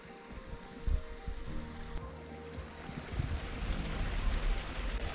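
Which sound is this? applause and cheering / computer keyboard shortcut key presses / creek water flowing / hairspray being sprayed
creek water flowing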